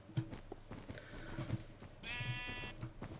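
Sheep in the Minecraft video game bleat twice in short, clear, nasal calls, the second longer, over a faint busy game background.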